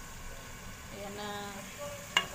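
Chicken curry with tomato and chili being stirred in a pan, a soft continuous sizzle with gentle scraping and one sharp clink of a utensil near the end.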